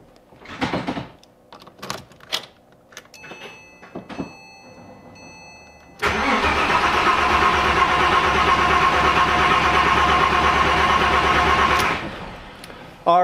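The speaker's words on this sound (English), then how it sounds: "we can go ahead and try to start the car now." A Porsche 997 Carrera 4S cranks with its fuel pump fuse pulled: scattered clicks and knocks come first, then a loud, steady starter churn runs for about six seconds without the engine catching, and stops abruptly.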